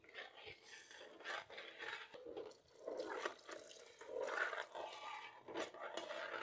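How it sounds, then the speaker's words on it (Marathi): Hot water is poured into a simmering gravy for spicy shev bhaji, a faint, uneven gushing and bubbling that rises and falls across the pour. "आपण आता त्यामध्ये गरम पाणी घालून घेऊ"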